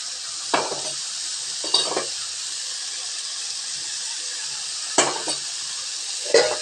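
Beaten eggs, two of them, hit a pan of frying palak with a steady hiss and sizzle, broken by a few sharp scraping stirs of a spoon against the pan.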